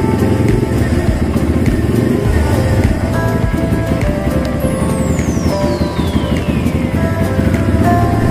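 A Kawasaki W175 motorcycle that is hard to start on cold mornings runs its single-cylinder engine close by, keeping a steady, loud, throbbing idle while it warms up, with no change in pace.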